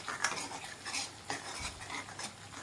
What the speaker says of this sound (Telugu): పచ్చివాసన పోయేదాకా మనము ఇలాగా కలుపుతూ ఉన్నామండి